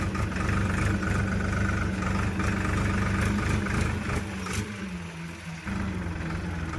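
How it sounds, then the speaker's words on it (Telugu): A bulldozer levelling freshly dumped soil at an earth-filling site with tractors: a loud, continuous diesel engine rumble close by, with clanking metallic knocks and a brief dip in the drone partway through. "మేము మట్టి పోసినా కొద్దీ డోర్ బండ్తో లెవెల్ చేస్తూనే ఉంది"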